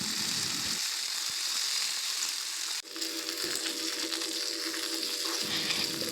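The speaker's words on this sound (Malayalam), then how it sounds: "കൂടെ ചീനമുളക് ഇട്ടിട്ട് കുറച്ച് പുളി ഇട്ടിട്ട് ഒന്ന് വഴറ്റിയെടുക്കുക" Shallots, dried red chillies and tamarind sauté in a hot pan with a steady, bright sizzle that jumps louder after a brief clatter midway, then carries on evenly up close.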